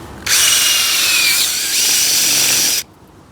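A small bulb auger on a power drill bores into natural sandy clay garden soil in one continuous high whirring and grinding burst of about two and a half seconds, close and loud.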